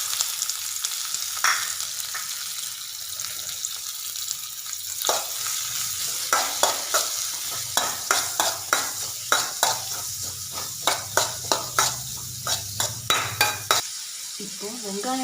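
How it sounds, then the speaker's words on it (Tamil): Sliced onions frying in oil in a pan, with a soft steady sizzle underneath and a run of quick, rhythmic scraping strokes as they are stirred. Up close and moderately loud. "இப்போ நம்ம இதில் வெங்காயத்தை சேர்த்துக்கலாம்"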